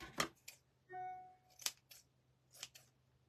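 Scissors snipping fabric strips for a pumpkin garland craft, a few sharp close cuts spaced apart with a brief tonal squeak in between, no talking.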